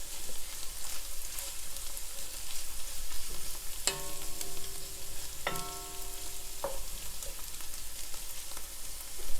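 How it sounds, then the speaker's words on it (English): Vegetables and bacon lardons cook in a pot for a Bolognese sauce, a steady soft sizzle throughout, with a couple of sharp metallic utensil knocks against the pot partway through. "we're going to let that cook 2 or 3 minutes just to get that bacon flavor into all those vegetables"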